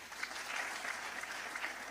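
A church congregation claps together, a soft, even patter of many hands that carries on steadily at a moderate distance with no voices over it.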